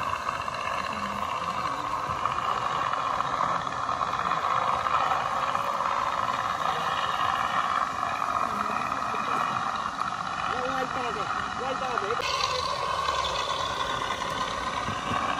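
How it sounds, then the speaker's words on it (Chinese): Simulated engine sound effect from an onboard sound unit on an electric RC P-47 model plane: a steady, loud droning hum that holds throughout, with a brief shift in tone near the end and people talking faintly underneath. "发动引擎，准备起飞"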